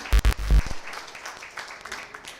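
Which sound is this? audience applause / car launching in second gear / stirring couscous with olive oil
audience applause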